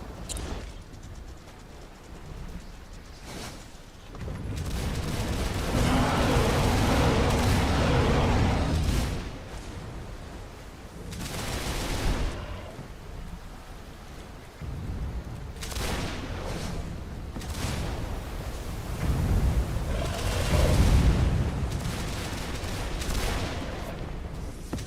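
Shooting at a dragon in Arcane Odyssey: sustained booming blasts and rumbling explosive fire come in long waves, loud and dense, with short quieter gaps between bursts.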